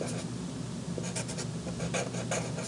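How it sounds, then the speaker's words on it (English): A marker squeaks and scratches across a whiteboard in a calculus lesson, with steady strokes and short bursts, heard close over a low room hum and no speech. "I got a little carried away with the marker there"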